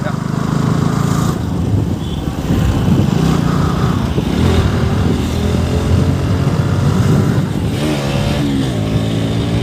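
A motorcycle ridden hard through town traffic, its engine droning and revving steadily close by under rushing wind noise, with someone talking over it throughout.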